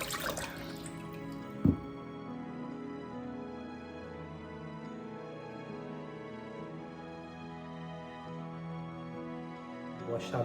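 Tap water runs steadily into a kitchen sink while red capsicum is rinsed to wash out the seeds, a continuous, fairly close splashing with a brief clatter near the start.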